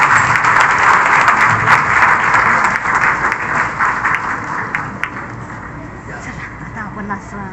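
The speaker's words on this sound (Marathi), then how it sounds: "विमलाजी आल्या तिथे आपण टाळ्या वाजवून त्यांचं स्वागत करूया." Audience applause at a Marathi literary conference welcoming a guest named Vimalaji, loud sustained clapping that gradually thins and fades toward the end, with some voices mixed in.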